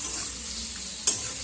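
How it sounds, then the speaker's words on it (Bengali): Gourd leaf paste cooks with spices in a pan, giving a soft, steady sizzle with a single brief sharp scrape of stirring near the end, no talking. "মশলার সঙ্গে আমি এই লাউ পাতাটাকেও ভালো করে নেড়ে চেড়ে নেব।"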